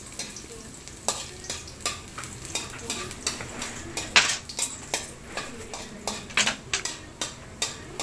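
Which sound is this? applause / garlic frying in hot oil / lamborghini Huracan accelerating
garlic frying in hot oil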